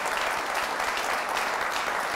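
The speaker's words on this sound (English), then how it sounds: "A round of applause for him once again." A studio audience at a televised health-sector discussion show applauds a departing guest, steady dense clapping filling the whole moment at moderate loudness with no voices over it.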